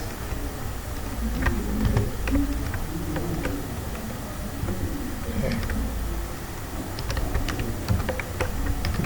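Steady keyboard typing, a quick run of light clicking keystrokes close by over a low room hum, with no talking.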